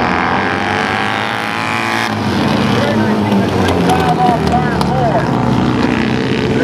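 Vintage Pro/Am twin racing motorcycles, a Triumph among them, scream around a dirt track in a loud, layered engine roar that swells as bikes pass, with announcer talk over it.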